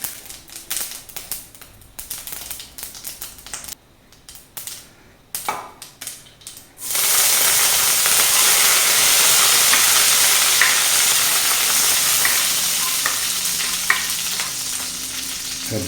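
Curry leaves drop into hot oil with spluttering mustard seeds, bursting into a loud, dense sizzle that holds steady after several seconds of sporadic popping crackles; close and with no talking.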